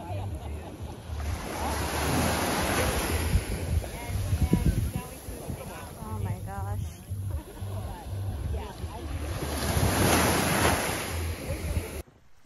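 Ocean waves surge and break on a beach on Nevis island, with a rolling, swelling wash and gusty wind noise; a person talks over the surf through much of it.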